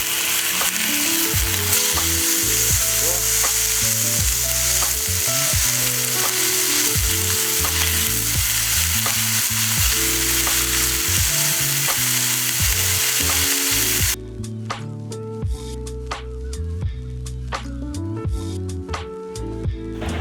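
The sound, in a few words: carne asada sizzling in a pan after flipping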